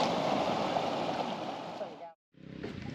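Creek water rushing over small rapids at a national park campsite, a steady broadband wash close by that cuts out briefly near the end before resuming.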